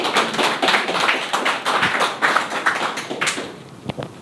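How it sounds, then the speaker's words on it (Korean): Dense, continuous applause from a seated audience welcoming a speaker at a Korean business seminar, steady and fairly close before tapering off near the end. "큰 박수로 환영해 주십시오."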